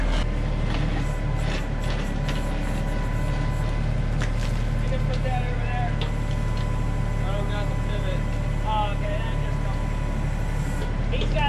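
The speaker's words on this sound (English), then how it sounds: "So just working at cleaning this up a little bit right now with the little backhoe. The big excavator's working out there making a trench." A small backhoe and a large excavator dig a trench, their diesel engines droning steadily and loud throughout, with brief whining tones rising and falling midway as the machines work.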